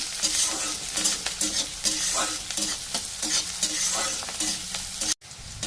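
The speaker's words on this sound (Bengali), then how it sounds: "তো পেঁয়াজটা কিছুক্ষণের জন্য একটু ভাজা করে নিয়েছি" Cubed onions frying in a pan for restaurant-style fried rice, a steady close sizzle broken by repeated scraping stirs of the spatula throughout.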